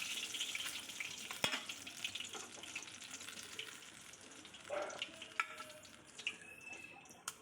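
Pieces of rohu fish sizzle in hot oil in a pan, a soft continuous crackle with a few sharper pops and clinks of stirring, near but quiet, with no talking.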